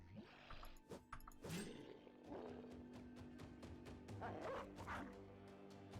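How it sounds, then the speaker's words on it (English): A dog in the tactical battle game Battle Brothers barks and yips repeatedly amid a dense mix of combat effects and clashing sounds, steady and fairly loud throughout. "Get our dog out."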